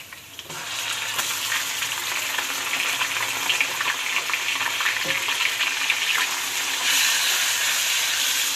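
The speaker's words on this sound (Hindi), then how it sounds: "कीमे को अच्छी तरह से मैं कर दूंगी फ्राई।" Mutton mince frying in a pan with onions, cumin and black pepper, a steady close sizzle with faint stirring scrapes and no talking.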